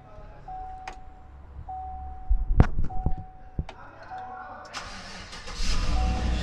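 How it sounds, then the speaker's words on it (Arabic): 2017 Chevrolet Silverado V8 cranking and catching in a few sharp bursts, then settling into a steady idle joined by a rising blower rush, with faint clicks and a chime beforehand. "اشتغلت السيارة"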